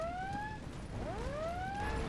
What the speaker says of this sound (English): Look at all the whoop whoop sirens.